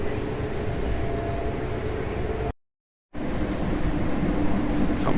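A commuter train heading to Madison Square Garden rumbles steadily, a dense low roar of wheels and cabin noise that cuts out briefly in the middle before resuming at the same level.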